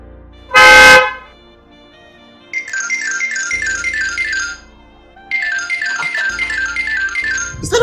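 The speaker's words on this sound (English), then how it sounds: "your phone ringing." A mobile phone ringtone plays loud and close in two repeated melodic bursts, separated by a short pause, just after a brief loud shout inside a house.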